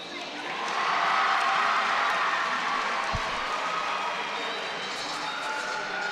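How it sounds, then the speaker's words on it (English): A crowd cheers at a college gymnastics meet in Raleigh, North Carolina, for an exhibition routine. The cheering swells after a quiet start into steady, moderately distant applause and whoops, and a commentator talks over it. "It's a nice cheer for her exhibition routine."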